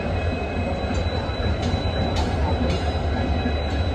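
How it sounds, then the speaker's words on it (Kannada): An Indian Railways locomotive rumbles past close by on rails at a station, moving to couple onto a train, a dense continuous roar with occasional metallic squeals and clanks. "ಲೋಕೋಮೋಟಿವ್ ಹೋಗ್ತಾ ಇದೆ ನೋಡಿ"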